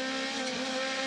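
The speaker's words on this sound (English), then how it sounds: "Now he can stand on the throttle," An Aussie Racing Cars race car on track at Queensland Raceway, heard as a loud, steady engine drone with a high sustained tone from close by.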